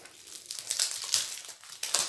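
Sheets of decorative wrapping paper being handled close up, crinkling and crackling in quick irregular bursts, loud and near with no talking.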